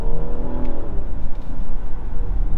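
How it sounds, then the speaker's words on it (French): A BMW X5 M45e plug-in hybrid's combustion engine kicks in under hard acceleration, heard from inside the cabin as a loud, rising engine drone with a rumbling low end, with no talk over it. "c'est une fois que tu accélères que le moteur thermique se met en route"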